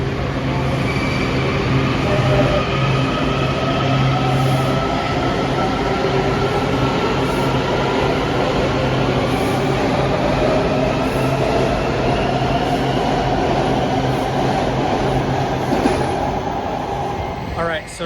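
Washington Metro subway train pulling into Crystal City station, a steady loud rumble of wheels and motors with tonal hum throughout, faint voices mixed in.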